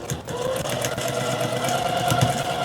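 A sewing machine runs steadily while stitching a seam on an Irish Chain quilt block, its needle chattering in a fast, even rhythm up close for the whole stretch, ending with a short back stitch.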